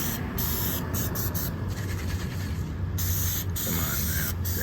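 A continuous hissing spray of coating onto a CB Ham pin lift plate during restoration, loud and close, with a few brief pauses breaking the stream.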